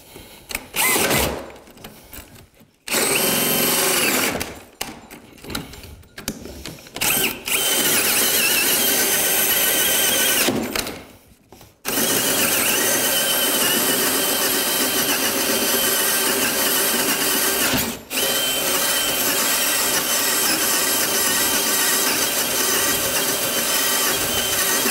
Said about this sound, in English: This burns through wood like nobody's business.